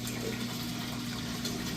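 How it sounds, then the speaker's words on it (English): Water flowing steadily in an aquarium sump beneath the tank, a constant close rushing trickle with a low pump hum underneath, no break or change. "Down here, the water flowing, not that bad as far as noise"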